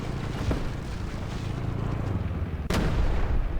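In War Thunder Mobile, a Sherman II tank cannon fires once with a sharp, loud blast late on, over a continuous rumbling engine and wind-like background, with a fainter thump near the start.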